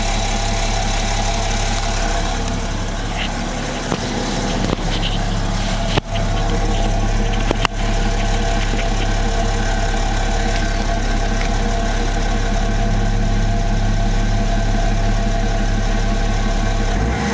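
A BMW M57 diesel engine idles steadily, a loud, close, even rumble with a constant low hum and faint knocking texture, broken by a couple of brief clicks, with no speech.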